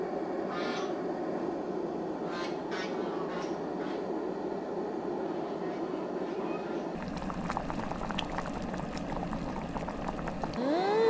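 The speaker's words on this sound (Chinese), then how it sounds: "我煮点萝卜和到那些东西进去。" Lamb offal hotpot with white radish simmering at a steady, close rolling boil, with continuous bubbling and a few clinks of utensils and pot near the end.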